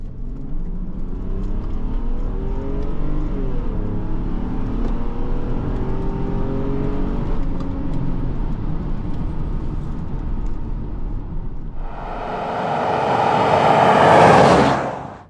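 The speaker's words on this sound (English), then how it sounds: "Let's just do another sort of throttle to the floor run, because that engine is surprising." A Mercedes S600 (W140) V12 engine revs hard at full throttle, a steady roar building to a loud, high-pitched scream near the end before cutting off.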